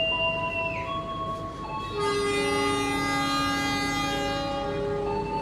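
The KA Sangkuriang economy passenger train runs with a steady rolling rumble, overlaid by sustained tonal whines and a horn-like sound that shifts partway through, loud and close.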